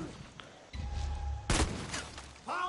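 Shotgun fire in the video game Far Cry 6: a sharp, loud blast cracks out midway, with quieter in-game rumbles and thuds before it and more action noise afterward.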